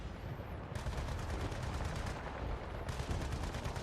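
Gunfire in the shooter game Battlefield: Bad Company 2, rapid automatic bursts crackling in two long stretches with a brief lull between, loud and continuous against a busy battlefield background.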